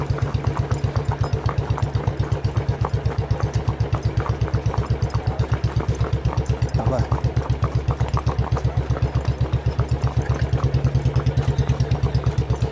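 A motorcycle engine runs close by with a steady, rapid thumping idle pulse that holds evenly throughout, while people talk over it.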